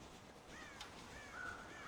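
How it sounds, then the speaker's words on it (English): Crows caw in the Red Dead Redemption video game at a farm silo, harsh calls repeating faintly over a steady ambient game background with no talk. "God damn crows!"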